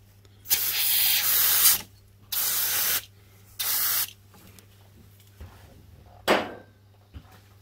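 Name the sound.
aerosol cleaner being sprayed on engine parts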